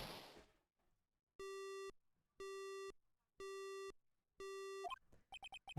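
A phone line in the Ace Attorney video game goes dead after a crash, leaving four loud, evenly spaced busy-signal tones followed by a quick run of short electronic beeps, with no voices.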